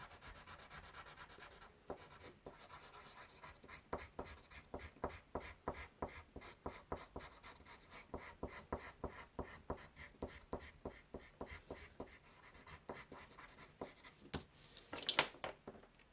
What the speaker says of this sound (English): Take the blender pencil and we just blend that in lightly.